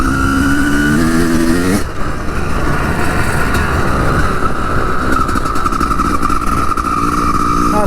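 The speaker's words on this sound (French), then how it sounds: "ça fait du bien de rouler avec la CR." A 250CR enduro motorcycle is ridden close by, its engine loud and raspy as it revs up and shifts, then holds a steady, buzzing drone under wind noise.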